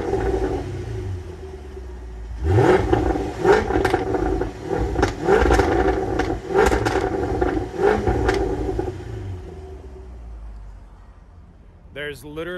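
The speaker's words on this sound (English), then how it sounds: "Let me give you guys a little exhaust note." A supercharged Jaguar F-Type R blips its engine repeatedly, each rev flaring into a sharp, crackling exhaust bark over a steady idle rumble, loud and close, settling back to idle near the end.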